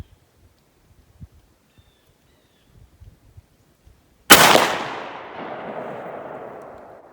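12 gauge shotgun firing a Fury slug at an outdoor range: a single sharp, very loud blast after a few seconds of faint quiet, followed by a long rolling echo that slowly fades.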